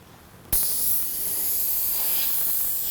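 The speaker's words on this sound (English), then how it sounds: "We're going to get it in the airbrush." An airbrush sprays thinned Createx paint with a sudden onset of steady, bright hiss that runs on without a break, close to the mic with no talk.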